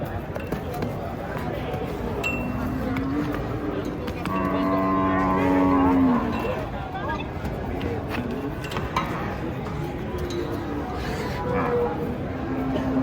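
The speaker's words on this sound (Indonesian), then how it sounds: "Sini lihat sapi ngamuk." A single long, low moo from an enraged cow swells and fades midway through, surrounded by steady crowd chatter and outdoor background noise.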